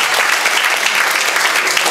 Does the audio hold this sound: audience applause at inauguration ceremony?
yes